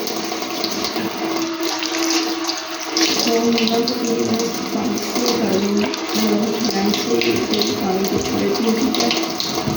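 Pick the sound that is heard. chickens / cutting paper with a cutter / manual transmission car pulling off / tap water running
tap water running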